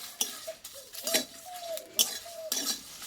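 Quick metal clinks and scrapes of a utensil stirring chillies frying in a pan, irregular and close, with a faint sizzle underneath.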